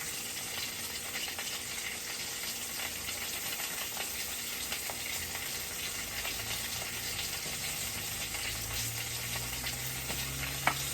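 Sweet potato fries frying in hot oil, a steady close sizzle with fine crackling and bubbling that runs unbroken throughout, with no voices.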